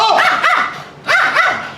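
A dog barks in two quick pairs of sharp, close barks separated by a short pause, loud and clear with no talk over them.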